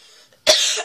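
A single sharp, harsh cough, loud and close, following a brief moment of near silence.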